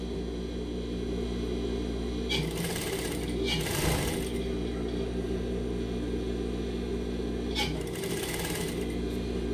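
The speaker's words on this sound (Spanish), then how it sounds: "seguimos cosiendo nuestro margen de costura que tenemos" Sewing machine stitching a seam allowance on fabric, a steady mechanical hum with a couple of louder rattling bursts of fast stitching, close and continuous, with faint talk in the background.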